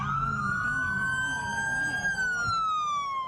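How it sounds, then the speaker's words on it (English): A police siren wails steadily, rising and falling in a long sweeping tone, fairly close and clear over a low rumble of traffic. "she heard the sirens and started recording"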